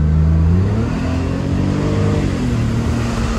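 BMW Z3 with a naturally aspirated 2.2-litre six-cylinder and five-speed gearbox pulls hard, engine droning loud and close, revs dipping briefly at a shift into third before climbing again.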